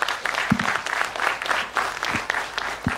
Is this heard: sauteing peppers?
no